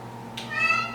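An indoor cat gives one short meow, close by and fairly clear, over a faint low background hum.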